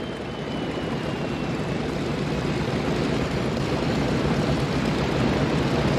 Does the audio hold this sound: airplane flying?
yes